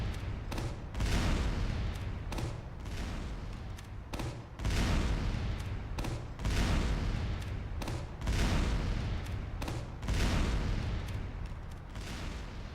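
Heavy's minigun in Team Fortress 2 firing in a sustained, dense roar of gunfire, loud and continuous across the whole stretch, pulsing in longer bursts with only brief dips between them.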